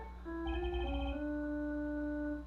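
A cell phone ringtone from the game Phoenix Wright: Ace Attorney – Justice for All plays a bright electronic melody of held tones, loud and alone, for about two seconds.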